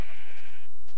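A sheep in Minecraft gives one short, bright bleat close up, with no talking over it.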